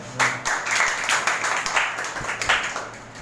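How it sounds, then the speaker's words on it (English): Students in a classroom clapping together in a steady burst of applause at close range, with no talking over it. "So first of all, clap for yourself."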